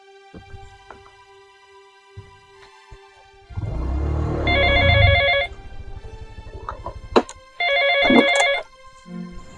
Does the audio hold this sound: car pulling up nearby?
no